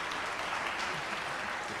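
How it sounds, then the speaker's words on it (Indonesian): An audience at a university investment talk applauds steadily, a dense, even patter of many hands clapping at moderate volume throughout. "Kita beri tepuk tangan pada Philip"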